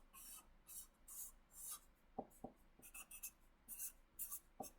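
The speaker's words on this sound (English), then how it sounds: "I'm going to go ahead and sketch him out on this piece of paper" Pencil sketching a cat drawing on a sheet of paper, with quiet scratchy strokes repeating in short bursts and a few soft taps of the pencil, close and fairly faint, with no talking.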